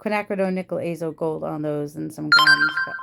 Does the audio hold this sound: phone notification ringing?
yes